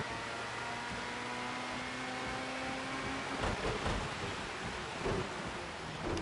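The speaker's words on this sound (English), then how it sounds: "this rain has come from out of nowhere" Rain falling in a racing video game, a steady broadband hiss of downpour with a couple of low rumbling swells, no talking.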